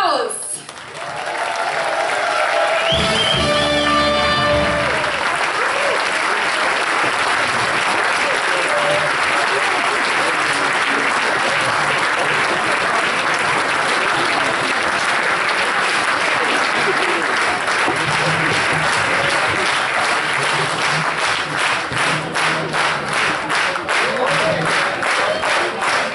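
A carnival audience at the Cologne children's triumvirate proclamation breaks into sustained, loud applause that continues for a long stretch and turns to rhythmic clapping toward the end, with voices mixed into the crowd noise.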